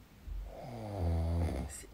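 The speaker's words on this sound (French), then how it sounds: "C'est hyper malaisant de m'entendre ronfler." A sleeping person snores once in a long, low, rumbling inhale that swells and fades, fairly close and alone in a quiet room.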